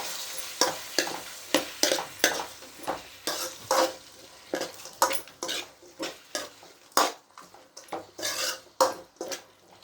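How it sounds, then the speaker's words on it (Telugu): Tomatoes softening in oil in a pan, a soft sizzle broken by a steady run of rhythmic stirring scrapes and clinks of a spoon against the pan, close and without speech. "ఇప్పుడు ఈ టమాటో మనము ఆయిల్లో మగ్గనివ్వాలి"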